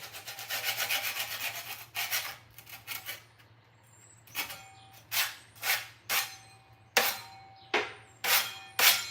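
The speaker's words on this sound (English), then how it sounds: "I'm about to take this paint off of here." Paint being scraped off wood during a home remodel, with a long continuous rasp followed by a run of short, sharp scraping strokes in a steady rhythm, close and fairly loud with a low hum underneath.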